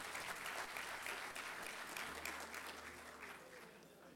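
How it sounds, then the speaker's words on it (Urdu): Applause from an Urdu poetry gathering audience greeting a guest as he comes to the stage, a dense steady patter of many hands filling the whole stretch at moderate level, with a low hum underneath. "آپ لوگ ان کا تالیوں کے ساتھ زوردار استقبال کیجیے"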